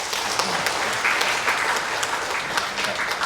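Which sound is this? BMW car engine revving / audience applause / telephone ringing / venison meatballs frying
audience applause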